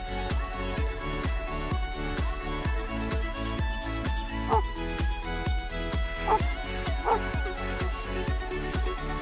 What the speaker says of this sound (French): Cet exercice a pour but de renforcer l'aboiement du chien